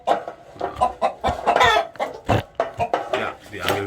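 Chickens cluck in irregular bursts, loud and close, while eggs are collected. Calls overlap one another, with occasional sharper squawks.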